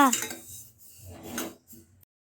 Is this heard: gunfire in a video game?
no